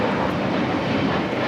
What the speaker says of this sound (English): 675 taking off to Las Vegas on the A321neo